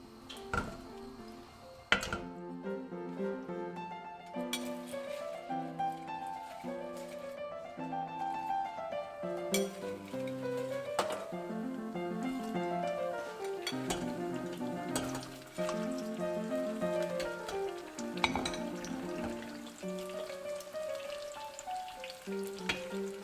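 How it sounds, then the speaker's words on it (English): Sweet and sour pork pieces refried in very hot oil, a steady close sizzle and bubbling that carries on throughout, with no talking over it. "So now we refry again. So the oil is gonna be really hot and outside it's gonna be nice golden color."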